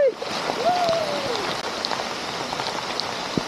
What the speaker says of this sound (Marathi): किती पाऊस पडतोय बघा, जोरात पाऊस आहे गावामध्ये